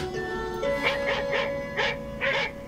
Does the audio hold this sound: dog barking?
yes